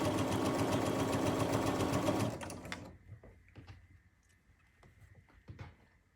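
A sewing machine stitches fabric at a steady whirring run for about two seconds, then stops, leaving faint clicks and handling noises.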